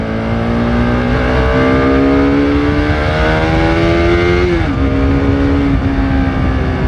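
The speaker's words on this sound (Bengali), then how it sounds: "এ কি সাউন্ড আমার বাইকে কি আজকে জাদু টাদু হলো নাকি এরকম সাউন্ড দিল" A motorcycle engine hums loud and close, its pitch climbing steadily as it revs, then dropping back and holding.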